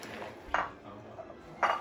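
Popcorn mix with sprinkles stirred in a bowl, two brief clinking knocks of a utensil against the bowl over a faint rustle, close and quiet, no talking.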